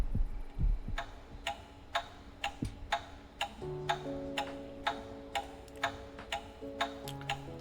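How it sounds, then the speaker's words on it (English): A wall clock ticks steadily in a quiet room in the video game Reverse 1999, each crisp tick evenly spaced and close, over a soft low musical hum and sustained tones. "the steady ticking of the clock on the wall is the only sound in the room"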